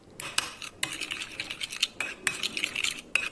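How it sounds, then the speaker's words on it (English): A metal spoon stirs thick Greek yogurt in a bowl, giving a quick run of close, clinking scrapes against the dish for a few seconds, with no talking. "Keep mixing till you get a cream consistency."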